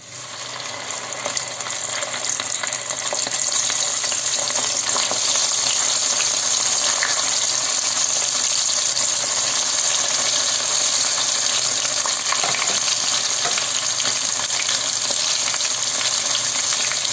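Fish frying in already hot oil, a steady, loud, dense sizzle that continues evenly throughout with no voices.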